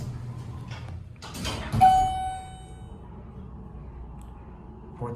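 A Schindler MT 300A hydraulic elevator door at a department store slides with a rumbling clatter, followed by a single bright ding ringing out and fading, with a quiet hum underneath and another bump near the end.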